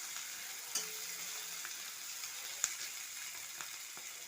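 Green chillies frying in a pan of fish curry, a steady close sizzle with a few sharp pops and light stirring scrapes throughout, no voices.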